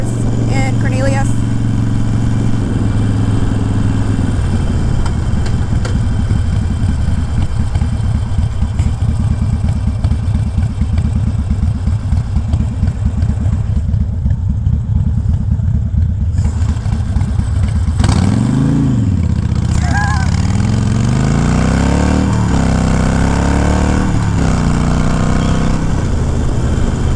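A motorcycle engine heard while riding on a cold day, close and loud throughout, holding a steady droning note and then rising and falling through a shift, with wind rush and a rider talking over it.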